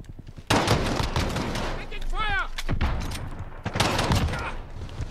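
Rapid gunfire in Modern Warfare during a hardpoint match, a dense burst of shots with a pistol among the weapons, loud and close, broken by a brief whooshing sweep before more firing resumes.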